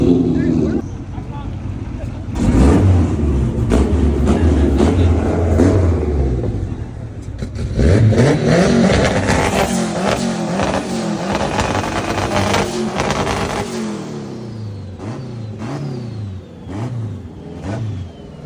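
Turbocharged car revving at a car meet, engine rising and falling in loud surges with harmonic sweeps, crowd chatter and voices underneath throughout.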